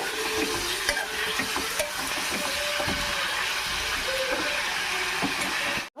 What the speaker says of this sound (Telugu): ముక్కలు ఒకసారి తిప్పుకుందాం. బాగా ఫ్రై చేసుకుంటాం కదా